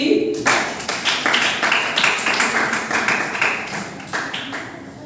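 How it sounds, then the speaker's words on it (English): Students in a middle-school classroom clap for team D during an English literature week quiz, a near group of hands beating steadily for about five seconds with no talk. "Clap for team D."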